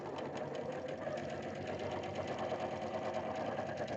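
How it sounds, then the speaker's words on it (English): A sewing machine runs steadily while stitching sashing strips onto quilt blocks, its fast even whir continuous and close throughout, with no talking. "because I'm still sewing sashing on."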